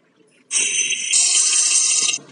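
A water bottle fills in Minecraft, a bright synthetic bubbling tone that starts abruptly, rises in intensity partway through and stops after under two seconds, clear and close with no talk.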